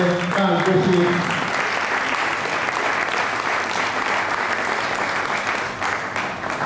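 Steady, sustained audience applause at a university Faculty of Law gathering honouring the Dean of Law, a dense wash of clapping filling the room for several seconds with a brief murmur of voices at the start.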